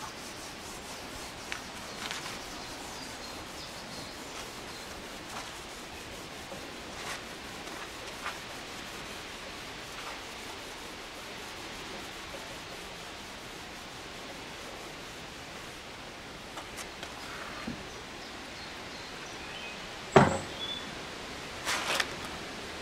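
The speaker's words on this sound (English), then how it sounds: "Have a Black & Decker cordless scrubbing brush, which I found very useful for buffing these up afterwards." A Black & Decker cordless scrubbing brush buffs metal parts from an 1865 Forster & Andrews pipe organ. It gives a steady, even rubbing hiss for the whole stretch, broken by a few faint knocks and a sharper clatter near the end.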